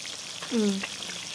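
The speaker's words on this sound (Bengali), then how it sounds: "এবার আমি মাছগুলো ছেড়ে দিলাম, মাছগুলো ভাজা হোক।" Large rohu fish frying in hot oil, a close steady crackling sizzle with a brief voiced sound midway.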